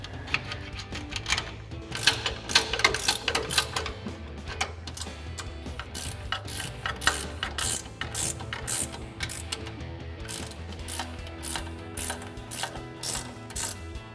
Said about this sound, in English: So to do that, I have a 16mm ratcheting wrench.